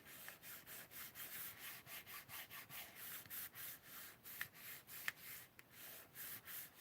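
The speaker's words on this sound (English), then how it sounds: "rubbing." Paper being rubbed by hand on a stamping platform tool in a craft session, a quiet, steady series of short scratchy strokes repeating in an even back-and-forth rhythm.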